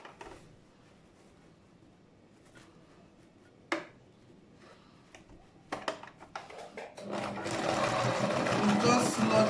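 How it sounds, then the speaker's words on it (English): A sewing machine starts with a few short clicks and bursts, then runs into a steady, fast whirring stitch that grows louder toward the end. "you can still use your sewing machine"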